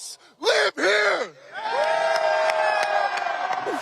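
A crowd at a Super Bowl parade cheers and whoops, heard as a played recording: a couple of loud shouts first, then sustained cheering with a few sharp accents, fairly near and moderately loud.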